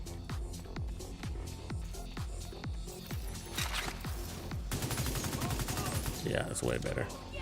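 AUG rifle fire in The Division 2: a run of evenly spaced single shots, each a sharp crack with a low thump, gives way to denser, louder overlapping gunfire and impacts in the game mix.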